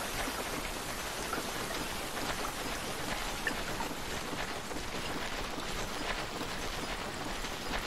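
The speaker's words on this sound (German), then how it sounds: "Der Regen, ne?" Steady rain falls in the video game Grotesque Tactics, a dense, even hiss of drops that continues without pause at a constant, fairly soft level.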